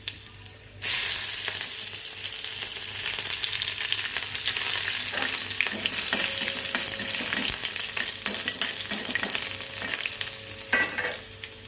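Mustard seeds hitting hot oil in a pan where peanuts were roasted, an abrupt onset of loud steady sizzling with crackles and pops plus occasional scraping of a stirring spoon, no talking.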